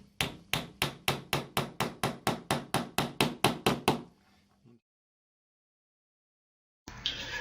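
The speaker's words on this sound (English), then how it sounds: "Using a hammer, gently tap one of the axles into the first rear wheel" A hammer taps rapidly and evenly, about sixteen sharp metallic strikes up close as an axle is driven into a model solar car's rear wheel, then stops; silence follows before a brief noise at the end.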